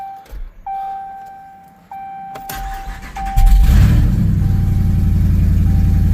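A Ram with a 392 Hemi and Whipple supercharger starts up through a custom true dual exhaust with cutouts open: warning chimes, a starter crank, then a sudden loud catch settling into a heavy, rumbling idle, close up.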